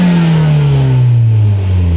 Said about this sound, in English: Here's the windows rolled down. Here's some turbo action.